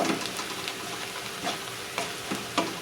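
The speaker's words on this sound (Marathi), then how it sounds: "आता ही छान आपल्याला तेलामध्ये सगळे मसाले भाजून घ्यायचे आहेत" Spices including coriander powder roasting in hot oil in a pan for a Khandeshi pokla leaf bhaji, with a continuous sizzle and several distinct scraping stir strokes close up.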